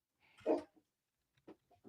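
A dog indoors, startled by someone walking in, gives one louder bark followed by a couple of short, softer yips and whines, heard at a distance in an otherwise quiet room.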